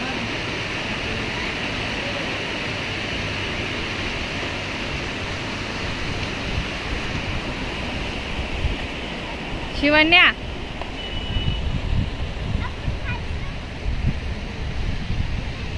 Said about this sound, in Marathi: तुम्ही बघू शकताय पाण्याचा जो प्रवाह आहे